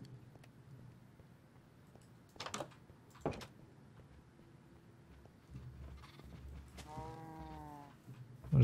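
Minecraft cows in a survival game, a low moo with stacked harmonics rising near the end over quiet background clicks and thumps, fairly faint.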